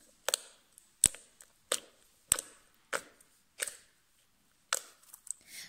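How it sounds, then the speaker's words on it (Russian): Homemade slime from a make-your-own kit squeezed by hand, giving about nine sharp separate clicks and pops at an uneven pace, close and fairly quiet, with no talking. "Короче, вот так вот он, ребят, кликает."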